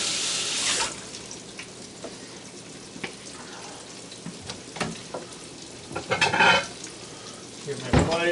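Water runs from a kitchen tap while hands are washed, a soft steady flow with a few splashes and clatters, louder toward the end, no one speaking.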